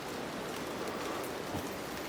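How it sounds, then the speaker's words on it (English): Light rain falls steadily outdoors on a winter morning in the forest at Te Urewera, a soft even hiss that stays faint and unchanging, with no one speaking. "it's still raining a bit this morning"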